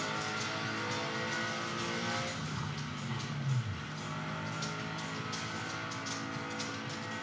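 A car free-driving through the city in the video game Paradise City Online, its engine a steady, moderate drone with a brief swell partway through.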